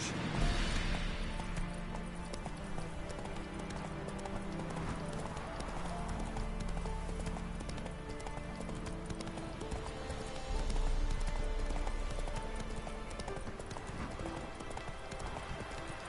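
Hoofbeats of Roach, the horse in The Witcher 3, gallop steadily and loud throughout, layered over a game music bed with a dense rhythmic clip-clop.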